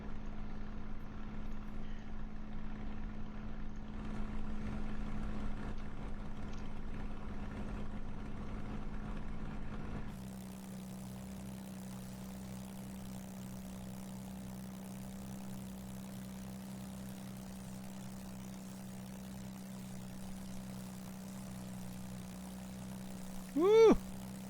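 Aircraft engines in a flight simulator game drone steadily at a moderate, even level, drop to a quieter, smoother hum partway through, and end with a short rising whine.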